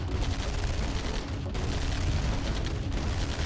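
Helicopter gunship attacking a medium tank in Command & Conquer Remastered, a dense, continuous barrage of rapid gunfire and booming impacts filling the whole stretch at steady loudness, with no talk over it.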